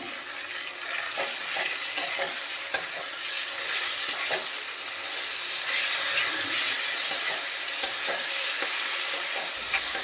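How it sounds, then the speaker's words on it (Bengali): Onions sizzle and fry with ginger, garlic and green chili paste for mutton kosha, a steady close hiss broken by scrapes and knocks of stirring, with no one talking. "পেঁয়াজ ভাজা হয়ে গেলে এর মধ্যে দিয়ে দেবো আদা, রসুন আর পাকা লঙ্কার পেস্টটা। ভালো করে মশলাটা কষিয়ে নেব।"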